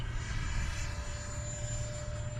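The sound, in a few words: FMS Integral 80mm EDF RC plane flying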